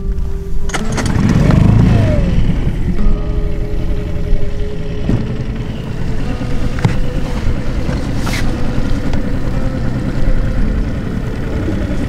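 A primed engine starts with a brief crank and catches, then runs loud and close in a steady, rough, continuous drone for the rest of the stretch.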